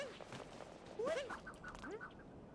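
Attacking birds in the Super Mario Odyssey desert stage give a few short, quacking squawks over quiet background game sounds.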